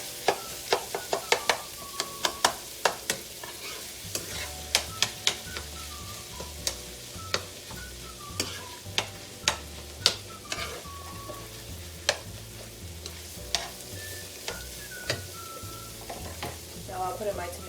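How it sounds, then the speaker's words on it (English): Ground meat frying in a pan for lasagna, stirred with a utensil that scrapes and taps the pan in a steady run of sharp clicks over a constant low sizzle. "doesn't take long at all for the meat to cook"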